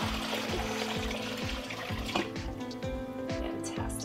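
Homemade chicken broth poured through a sieve, a steady close trickle and splash of liquid with a regular repeating pulse, with no talking.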